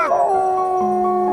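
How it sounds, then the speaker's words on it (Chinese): A Shiba Inu gives one drawn-out, close, loud howling yelp that slides down and then holds a steady tone for about a second. "没想到这一叫，所有狗子都有了反应"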